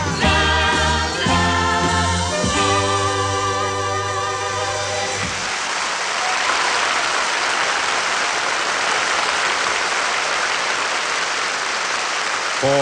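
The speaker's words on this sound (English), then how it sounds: "Warm applause." Warm applause at the 1972 Eurovision Song Contest rises as the song's final chords fade, then a steady, dense crowd clapping carries on at even strength for several seconds.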